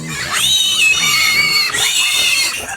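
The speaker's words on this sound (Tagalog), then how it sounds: "Yan na mga kamangyan, naghihintay ng ating mga alagang biik at oras na ng kanilang kain." Native piglets grunt and squeal close by as they wait to be fed, a busy, continuous run of overlapping high calls with no talking.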